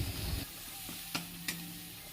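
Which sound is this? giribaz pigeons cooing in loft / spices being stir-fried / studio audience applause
spices being stir-fried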